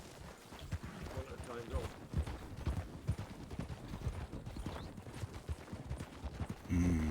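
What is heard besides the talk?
horse hooves clip-clopping in Red Dead Redemption 2 (video game)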